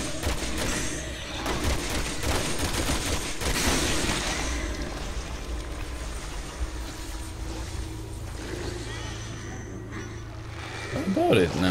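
Gunfire and explosions fill a co-op session of the video game Resident Evil 6. The din is dense and continuous, with busy bursts all the way through.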